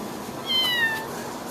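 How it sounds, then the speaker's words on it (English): A small kitten gives a short, high, thin meow in a quiet room, a single faint call lasting under a second. "This is our little cat."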